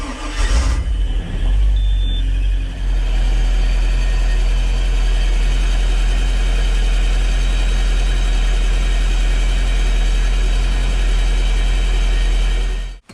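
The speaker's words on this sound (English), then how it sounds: "we're gonna feed water into the engine and then do a test start and make sure that there's no leaks down there" A Volvo Penta 5.7 inboard boat engine cranks and catches, then settles into a loud, steady low rumbling idle that runs close and unbroken for about twelve seconds during a test start after an impeller change.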